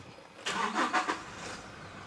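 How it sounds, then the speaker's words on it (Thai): A Toyota Revo 2.4 pickup engine starting, with a brief close crank of a few rapid pulses lasting under a second, then settling into a quiet steady idle. "ขออนุญาต สตาร์ทรถแล้วกันนะ เหยียบเบรก"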